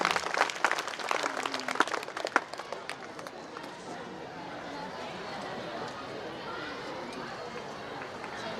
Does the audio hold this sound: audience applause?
yes